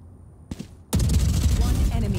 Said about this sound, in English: Using my suppressor thing.